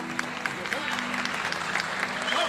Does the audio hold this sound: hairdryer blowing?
no